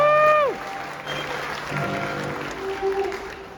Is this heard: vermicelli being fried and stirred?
no